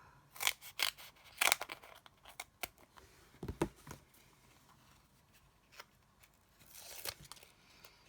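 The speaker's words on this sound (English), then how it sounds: "I'll just cut just a rectangle." Scissors cutting a rectangle from sticky-backed craft material, a few quiet, close snips and paper rustles with pauses between them, faint and intermittent.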